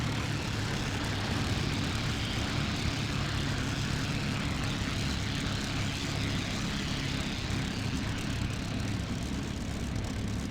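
A propeller aircraft engine drones loud and continuous throughout a World War II-era Pacific flight combat game over Iwo Jima, with the engine overheating and a dense, unbroken roar and no pauses.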